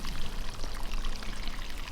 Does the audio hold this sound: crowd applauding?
no